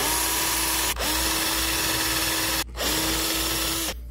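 Diamond sharpener bit spun in a drill, grinding the cutters of a chainsaw chain: a steady, loud whine in two long bursts, each cut off briefly as the tool pauses, with no talking.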